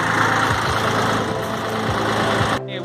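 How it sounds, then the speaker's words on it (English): A Ford tractor engine idles steadily close by, a continuous low rumble with a faint rhythmic knock, cutting off abruptly near the end. "it's time to put the tractor away, so let's put it away."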